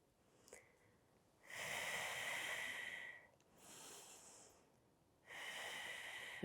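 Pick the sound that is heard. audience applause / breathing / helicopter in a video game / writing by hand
breathing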